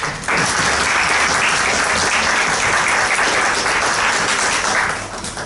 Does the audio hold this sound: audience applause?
yes